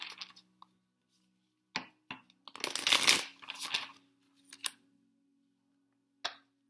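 Moonology oracle cards are shuffled close by in a few short riffling bursts, the longest in the middle, with quiet gaps and faint handling clicks between.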